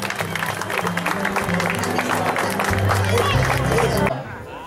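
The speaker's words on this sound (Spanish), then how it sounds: "Gran, gran, pero gran aplauso." Applause from a crowd at a chapel's 50th anniversary party, a dense wash of clapping and chatter over background music that fades out near the end.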